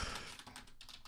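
Computer keyboard typing: a brief, quiet patter of rapid keystrokes, heard alone with no talking.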